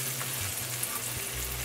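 Chopped onions, pimento pepper and minced garlic fry in a pan for parsley potatoes, giving a steady close sizzle with faint stirring scrapes, and no voices present.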